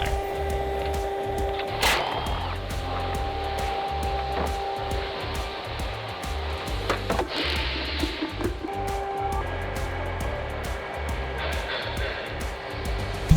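A vehicle AC refrigerant recovery machine in a workshop printing out its recovery record after servicing a Jeep Grand Cherokee, a steady buzzing mechanical whir lasting throughout, with a few sharp clicks and clatters, no voices.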